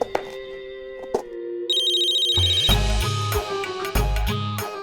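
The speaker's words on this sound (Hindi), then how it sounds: "सनिता, इतना टाइम क्यों लगा फोन उठाने में?" A telephone rings indoors in a Hindi drama scene: a few sharp electronic tones first, then a bright melodic ringtone with a steady repeating pattern, at moderate volume with no talking.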